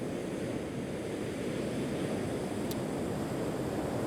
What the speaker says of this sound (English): we've got winds from the west coming straight over our heads, but we've got a lovely 4 to 6 swell